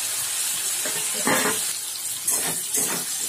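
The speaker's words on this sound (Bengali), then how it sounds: "ঝিঙের জলটা যতক্ষণ না পুরোপুরি টানে ততক্ষণ ফুল আঁচে আমরা এগুলোকে ভাজতে থাকবো এইভাবেই" Ridge gourd and potatoes fry on high heat with a constant close sizzle, punctuated by a few louder bursts as the pieces are stirred in the pan.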